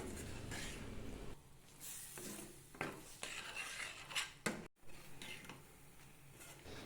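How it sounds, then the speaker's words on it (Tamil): A spatula scrapes and clinks against a pan while ground roasted Chettinad masala is stirred into oil, the soft irregular strokes of metal on metal rising and falling with quiet pauses between them. "சேர்த்து நன்றாக எண்ணெயில் மிக்ஸ் பண்ணி வதக்கி விட்டுக்குங்க."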